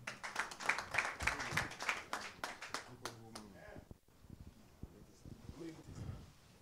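An audience at a memorial tribute event in Port-de-Paix applauds in a burst of quick, uneven clapping that fades after a few seconds, leaving scattered claps beneath speech.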